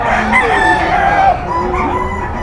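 Bull stag gamecock crowing at a market, one loud close crow with a drawn-out wavering tail, followed by softer background clucking and chatter.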